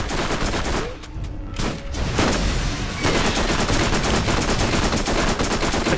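Submachine gun fire in Borderlands, rapid and loud, running almost continuously with brief gaps near the start over a dense, busy game soundscape.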